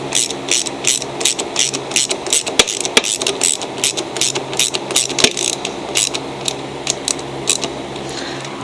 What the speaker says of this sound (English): And we'll go ahead and bolt our air filter housing on.